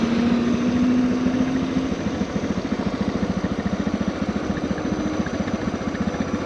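An old BMW car drives wide through a bend on Pikes Peak, its engine a loud, steady droning rumble with a fast pulsing beat throughout.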